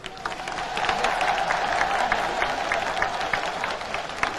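An audience bursts into sustained applause after a patriotic political speech about liberty and Haitian ancestors, a dense, even clapping from a large crowd that fills the whole stretch with scattered louder claps.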